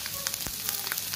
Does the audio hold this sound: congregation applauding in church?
no